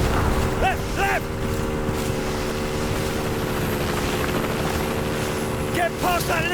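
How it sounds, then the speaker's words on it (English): Helicopter in the video game Call of Duty: Modern Warfare 2, a steady loud rotor drone running throughout, with brief whistling and whooshing effects layered on top. "So, watch that helicopter!"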